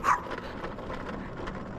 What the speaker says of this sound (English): I hear a dog somewhere.